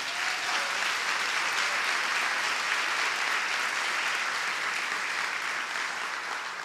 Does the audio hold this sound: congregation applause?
yes